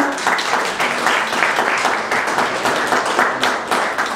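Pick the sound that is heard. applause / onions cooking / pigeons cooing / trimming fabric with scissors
applause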